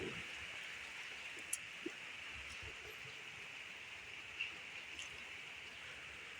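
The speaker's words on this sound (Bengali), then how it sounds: "আবার বৃষ্টি এলো" Steady rain falls outdoors during the monsoon season, a constant soft hiss with a few faint drips and taps, heard on its own with no voices.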